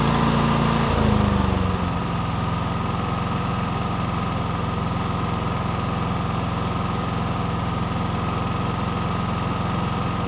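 A Predator 9500 inverter generator engine running in eco mode, heard from about 21 feet away as a steady, loud mechanical drone after a brief shift in tone at the start, with no talking.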